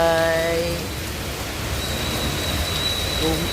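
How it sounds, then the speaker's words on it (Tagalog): Rain falls on a house roof as a steady, dense hiss of drops, with a voice singing faintly at the start and again at the very end. "Pumapatak na naman ang ulan sa bubong ng bahay."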